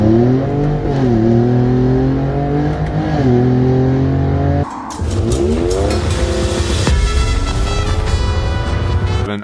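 A 2021 Ford Bronco with an EcoBoost V6, 2.7 or 3.5 litre, revs loudly and up close with no talk: a steady idle, rising and falling revs, then a sharp climb to a high, strained rev that holds.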